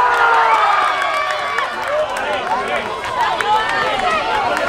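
Spectators at an outdoor volleyball tournament during Semana Santa in Cabarete, Dominican Republic, make a steady, lively crowd din with overlapping voices and occasional shouts, close and fairly loud throughout.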